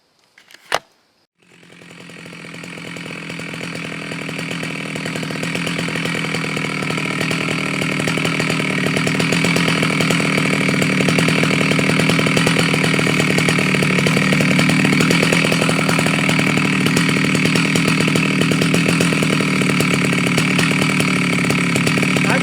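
An old two-stroke chainsaw starts with a brief pull and then settles into a steady, loud buzzing idle that holds close and continuous for the rest of the clip with no talking.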